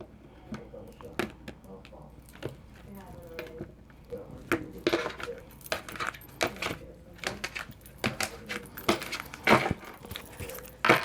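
Tarot cards are cut and shuffled close by in a quiet room, producing a series of sharp crisp slaps and riffles in irregular bursts, with soft talk underneath.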